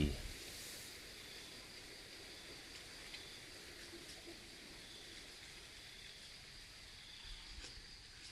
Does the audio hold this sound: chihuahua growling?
no